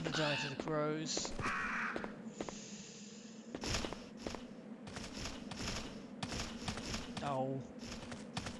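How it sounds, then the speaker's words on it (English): Crows caw in Resident Evil 3 (Bio Hazard 3), with several harsh, raspy calls at the start and near the end over a busy bed of game noise and sharp clicks. "Crows."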